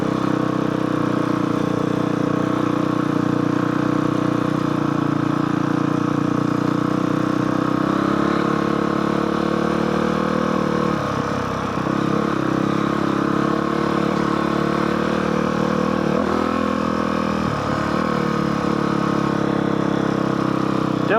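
A dirt bike engine runs steadily on a mountain canyon trail ride, a loud, close, continuous drone with a couple of brief dips in pitch partway through.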